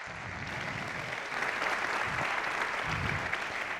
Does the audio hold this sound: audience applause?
yes